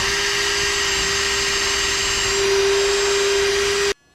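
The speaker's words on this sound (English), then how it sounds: "Now I'm tunneling the screw holes so I can use the machine screws that I got at the hardware store" A power drill bores out screw holes in the plastic of a Revel MaxxAir fan, giving a steady loud whine for about four seconds before stopping abruptly.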